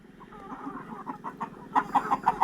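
Chickens clucking nearby on a farm with roosters, soft repeated calls building to a run of louder, rhythmic clucks toward the end.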